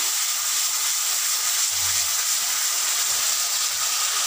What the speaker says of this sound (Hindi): अब मैं इसमें ऐड करूँगी प्याज का पेस्ट इसे बहुत अच्छे से हमें भूनना है